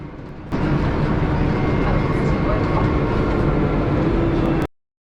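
An airport shuttle train at Paris Charles de Gaulle Airport runs with a loud, steady rumble and rushing hiss throughout, then the sound cuts off abruptly near the end.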